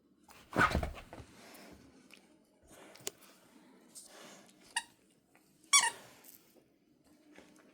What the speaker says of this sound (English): I should put this on Jethro, because you squeak too.